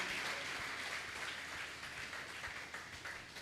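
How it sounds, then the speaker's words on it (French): Congregation applauding during a Sunday church service, a dense sustained wash of many hands clapping at moderate distance, steady throughout without voices on top. "Oui, ça mérite qu'on acclame la parole."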